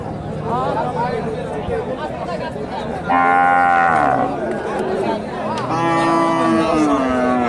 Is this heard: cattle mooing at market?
yes